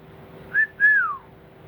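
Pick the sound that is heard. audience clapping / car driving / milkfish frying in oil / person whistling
person whistling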